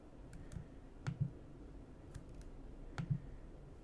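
Scattered computer keyboard clicks come while CSS is being edited, a few soft, separate taps and short pairs of keystrokes spread over a quiet room background.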